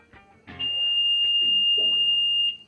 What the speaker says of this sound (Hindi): इस वायर की कंटिन्यूटी है, इसलिए मल्टीमीटर बीप साउंड कर रहा है